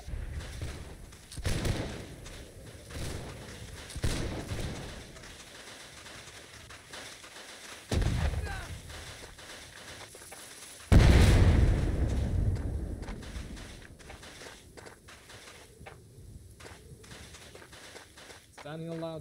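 Musket volley fire in Holdfast: Nations At War line battle, several loud booming volleys spaced apart with rolling echo, amid footsteps and nearby speech.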